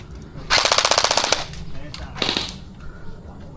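Rapid bursts of gel blaster fire during an indoor CQB game: a long fast rattling volley up close, then a shorter burst about a second later, with faint voices and background noise around.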